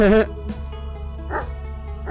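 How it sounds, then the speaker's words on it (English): In the game Something in the Well, a dog gives two short, loud barks about a second apart over a steady low background hum. "Bark, bark."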